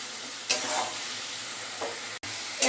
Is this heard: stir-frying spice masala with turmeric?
yes